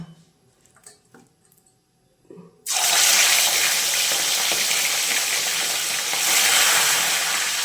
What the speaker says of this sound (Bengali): তেল গরম হয়ে গেছে, এবার মাছগুলো ছেড়ে দেব।